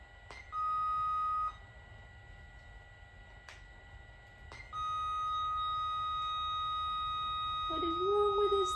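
Electronic beeps from a Sony Aibo 110 robot dog: a sustained tone, sharp clicks, then a longer steady beep, followed by a warbling chirp at the end, in a quiet room.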